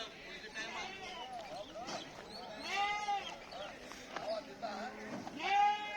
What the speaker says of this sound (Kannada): ಮೇಕೆ ಬಂದವು